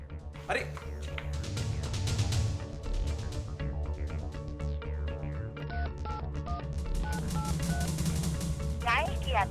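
A telephone number being dialed, with short keypad tones stepping in a quick sequence partway through, mixed under a voice speaking over them.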